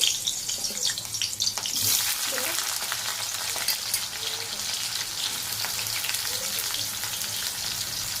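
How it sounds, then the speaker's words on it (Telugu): Two medium onions frying in hot oil, a loud close crackling sizzle that flares up sharply near the start and then settles into a steady fry, with occasional stirring scrapes. "ఇప్పుడు ఆయిల్ వేడెక్కిన తర్వాత ముందుగా మనం ఆనియన్స్ వేసుకోవాలి"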